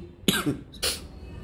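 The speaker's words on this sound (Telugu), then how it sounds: "మాట్లాడుతుంటేనే దగ్గు వస్తుంది" A man coughs twice in quick succession, close and fairly loud, with a short pause between the two bursts.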